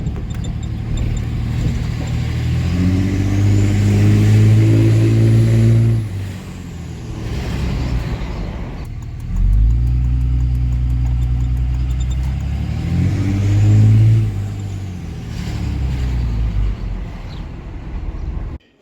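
A Suzuki Gixxer motorcycle, recently repaired with freshly adjusted valves, runs on a short test ride, its engine rising and falling through two long revving pulls with a gear change between, loud and close, no voices.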